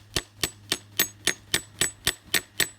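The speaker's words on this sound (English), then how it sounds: "I'm going to give it a little hammer into the tree so it stays" Ten even, sharp hammer taps drive a metal sap spout into a backyard maple tree, each strike ringing briefly with a slight metallic ding, close and steady at roughly three blows per second.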